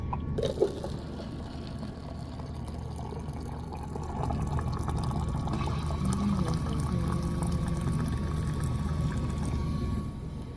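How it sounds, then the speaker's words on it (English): Water pours steadily into a big cup for several seconds, a continuous splashing fill close by that swells slightly partway through, with no talking. "We'll grab a big cup. And grab some water."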